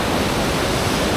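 Hindhope Linn waterfall in Northumberland gives a steady, close rushing roar of falling water, even and unbroken for a brief moment.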